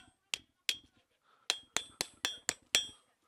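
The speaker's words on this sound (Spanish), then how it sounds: "Con dos martillacitos." Seven sharp metallic hammer strikes on red-hot iron at a forge ring out one after another, bright and clanging with a short ringing tail, fairly close, with no talking.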